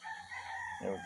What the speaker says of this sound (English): Outside, you can hear the roosters crowing.